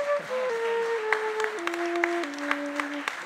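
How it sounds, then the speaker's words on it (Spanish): Audience applause at a parranda concert in Gran Canaria, steady clapping under sustained instrumental tones that step downward, a few sharper claps standing out. "un fuerte aplauso para ellos"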